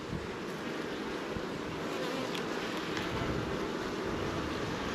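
Honey bees buzz around a home beehive, a faint, continuous hum mixed with soft wind-like noise outdoors.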